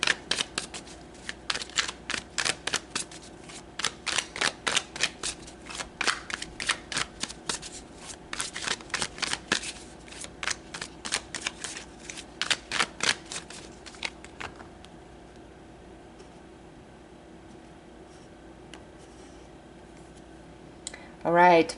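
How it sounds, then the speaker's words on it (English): Tarot cards being shuffled by hand in rapid, rhythmic riffling bursts for about fifteen seconds, then near quiet, with a brief voice at the very end. "let's pull some tarot cards"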